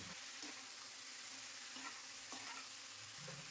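Cabbage and eggplant cooking in oil in a pan for a Bengali dish, a faint steady sizzle with a few soft clicks from a spatula stirring the vegetables.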